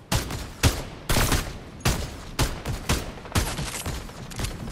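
Repeated gunfire in Fortnite, including sniper rifle shots: about eight sharp, loud reports in an uneven burst, some close together and some spaced apart, with no talk.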